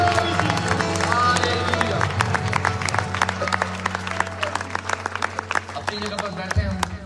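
A church congregation at a worship service claps in rhythm, a dense run of sharp, close claps that goes on steadily beneath a sustained tonal drone and a voice.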